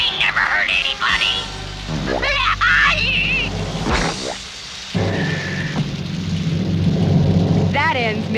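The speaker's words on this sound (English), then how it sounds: "A little rain never hurt anybody!" Cartoon rain and a thunderstorm, with low rumbles and a rainy hiss under character voices and whistling effects.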